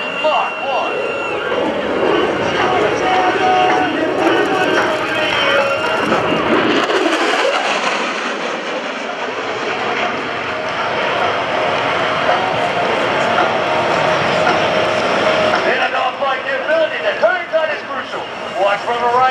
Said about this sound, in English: Watch now, everybody, rock and roll, the F-16, the speed is approaching. Mach 1.